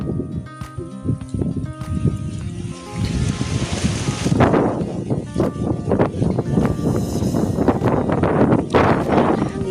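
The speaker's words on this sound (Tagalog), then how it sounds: "Grabe yun ang hangin." Strong wind buffeting a microphone outdoors at a farm field, a loud continuous roar with gusty bursts and rumble throughout, no voices clearly heard.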